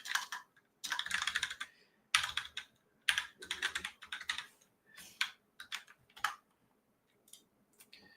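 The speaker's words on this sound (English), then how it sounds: "let me type that in here" Typing on a computer keyboard during a live DeFi session on Solana, with close, quick bursts of key clicks separated by short pauses and no talking.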